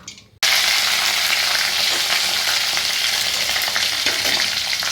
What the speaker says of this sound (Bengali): প্রথমে দিয়েছি সর্ষে আর শুকনো লঙ্কা, তারপরে গরম মশলা, তারপরে তেজপাতা, তারপরে দিয়েছি এই কারি পাতাগুলো দিয়ে ভালো করে ভেজে নিলাম